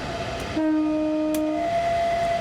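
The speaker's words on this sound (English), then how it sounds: "Oh, no, that's the whistle." A steady, two-tone train whistle from a BR Class 395 Javelin in Train Sim World 3 sounds for about a second, leaving one sustained tone ringing on over a low rumble.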